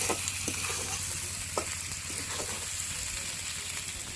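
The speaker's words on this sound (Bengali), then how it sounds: "এই যে পেঁয়াজটা একটু ভাজি করে নিছে পেঁয়াজের মাঝে সাইরা দিচ্ছে আলু" Sliced onion and potatoes fry in a pan, a steady soft sizzle broken by occasional scrapes and stirring clicks, fairly quiet and close, with no talk.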